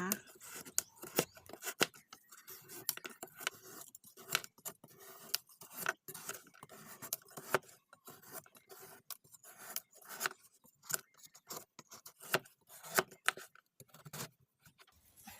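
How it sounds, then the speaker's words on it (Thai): A knife shaves the hard, pale skin off a mature winter melon, giving repeated short scraping strokes in an uneven rhythm, close and fairly quiet. "ต่อไปเราก็จะนำมาปอกเปลือกค่ะ เปลือกเขาก็จะแข็งนิดนึงนะคะ"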